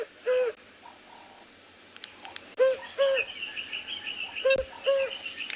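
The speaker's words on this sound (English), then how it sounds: "The African cuckoo, Cuculus gularis, which is a very common species this time of year." An African cuckoo (Cuculus gularis) in South African bush gives a repeated series of mellow hooting notes, spaced into short phrases and moderately close, over a steady hiss of background insects and a few faint other bird chirps.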